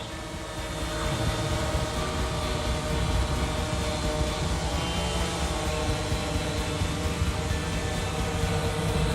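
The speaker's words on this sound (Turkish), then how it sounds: "Otonom olarak iniş gerçekleştirdiği konumdan tekrar kalkış gerçekleştiren İHA, tespit edilen yabancı otlar üzerinde ilaçlama gerçekleştirir." An agricultural spraying drone lifts off over a field to treat weeds, putting out a constant, dense whirring drone of motors and rotors at moderate volume that stays steady throughout, with no voices.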